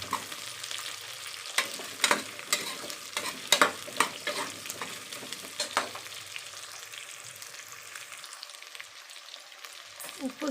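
Yellow pumpkin pieces stirred with sautéed onions in a pan for a village-style pumpkin rice, with steady sizzling and frequent scraping strokes of a spoon, close and fairly loud, easing toward the end.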